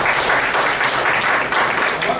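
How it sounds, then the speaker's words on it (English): Audience claps in a loud, dense burst of applause that stays steady throughout, a close, full room of hands with no talking over it. "let's give her a round of applause"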